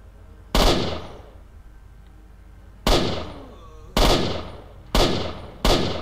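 Five sharp gunshots from a weapon in the game S.T.A.L.K.E.R.: Shadow of Chernobyl, irregularly spaced, each a loud crack followed by a short decaying echo.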